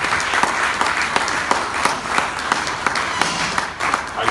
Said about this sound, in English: Please, another round of applause for you.